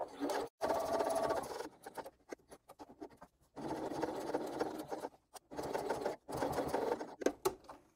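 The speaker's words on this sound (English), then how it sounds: "Using a longer stitch length and sewing all the way around." A sewing machine top stitches around a crossbody bag flap in several bursts of fast, steady whirring, separated by short pauses, close and moderately quiet.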